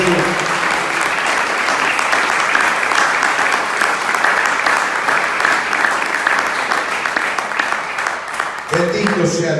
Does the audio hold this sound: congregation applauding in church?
yes